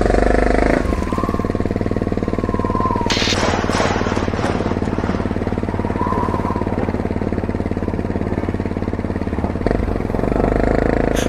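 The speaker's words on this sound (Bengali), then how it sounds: "দীপ্ত তিন্নিকে বাইকে চাপিয়ে রওনা দিল কটেজের উদ্দেশ্যে।" In an animated Bengali ghost story, a motorbike carrying two riders sets off toward a cottage before rain, its engine droning loud and steady, with a rising rev partway through and a continuous mechanical rumble.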